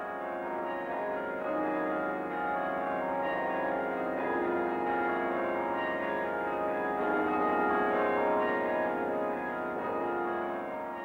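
A 53-bell cathedral carillon rings together in a rich, sustained wash of overlapping tones, steady and fairly loud, with no voices.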